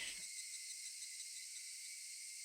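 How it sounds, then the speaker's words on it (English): Loud, steady buzzing drone of cicadas fills the air continuously, right after a brief soft sound at the start, with no talking over it. "The cicadas, which are a little loud"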